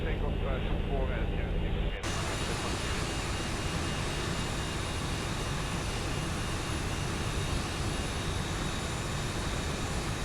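An aircraft engine in a flight simulator during takeoff: a steady, loud, broadband roar that swells after a short quieter start and then holds constant, with a voice talking over it early on.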